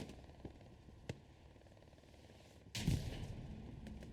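Gunfire and explosions in the World War II shooter Hell Let Loose during a competitive esports match, with a few scattered distant shots followed by a loud heavy blast and rumbling barrage against a quiet, hissing background.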